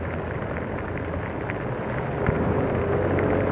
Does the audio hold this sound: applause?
no